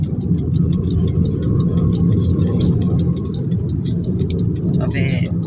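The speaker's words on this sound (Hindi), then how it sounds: "ऑफिस में जा रही है और काफ़ी लेट हो गई है तो 180 की स्पीड से जा रही है।" A car races along at around 180 km/h, its engine and road noise a steady, loud roar throughout, with talking heard over it.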